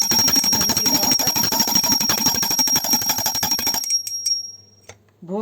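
A small brass puja bell rung by hand during a Navratri food offering at a home altar, a rapid continuous bright ringing for several seconds that then stops, leaving quiet.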